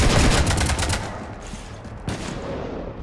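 Video game gunfire from Mass Effect 3 opens loud with a dense burst of rapid shots, then tapers into a quieter rumbling tail with one more sharp crack near the end.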